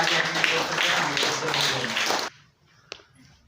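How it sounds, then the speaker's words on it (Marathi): Applause from an audience at a Jijau Jayanti celebration at a Zilla Parishad school in Mukramabad, a broad continuous clapping wash that stops abruptly after about two seconds, followed by a faint tap. "आपण टाळ्या वाजून अभिनंदन करूया"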